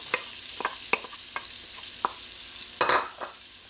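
Onions, garlic and hot pepper sauté in a pan for Trini coo coo, a soft steady sizzle punctuated by irregular spoon taps and stirring clatter.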